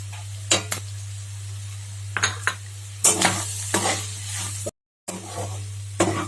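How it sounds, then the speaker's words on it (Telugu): Boti being stir-fried in a pan with red chilli powder and coriander powder: irregular scraping and clinking strokes of a utensil against metal over a light sizzle, close by, with a short silent gap and no talking. "వేసిన తరువాత బాగా మిక్స్ చేసుకోవాలి. ఒక 2 మినిట్స్ ఫ్రై చేసుకుందాం."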